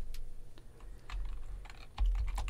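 Computer keyboard typing in a PowerPoint tutorial on a Mac: quick, light keystrokes scattered across the clip, growing denser and louder near the end, with no voices.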